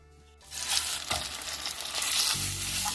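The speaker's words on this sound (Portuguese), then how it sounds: "Agora eu vou refogar com 3 colheres de sopa de azeite." Shrimp sautéing in three tablespoons of olive oil hiss into a loud, steady sizzle after a quiet start, with a deeper roar building near the end; no voices.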